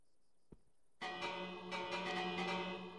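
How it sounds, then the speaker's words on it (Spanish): A bell in Minecraft rings out in a bright, sustained metallic peal with ringing overtones after a brief click, loud and alone against near silence. "La campana."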